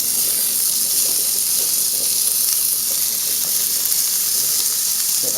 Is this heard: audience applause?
no